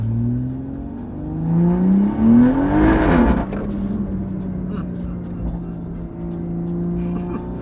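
A hybrid-turbo BMW M140i with a crackle tune accelerates hard, engine note climbing to a loud peak then dropping into a lower steady drone, heard from inside the car with people talking.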